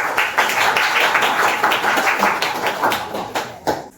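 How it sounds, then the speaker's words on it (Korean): Clapping from a seated audience at a business agreement signing ceremony during a law firm office opening seminar, a fairly loud, steady rattle of hands that carries on for several seconds before thinning out at the end. "큰 박수 부탁드리도록 하겠습니다"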